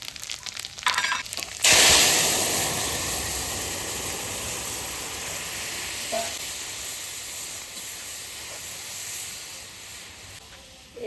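Dal poured into hot tempered oil bursts into a loud sizzle that slowly fades to a steady frying hiss, heard close up and alone.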